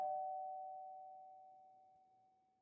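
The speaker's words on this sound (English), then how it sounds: "our negotiator fixes her hair and rings the doorbell" A single electronic doorbell chime rings out once, a clear steady tone that decays slowly over a couple of seconds in an otherwise silent space.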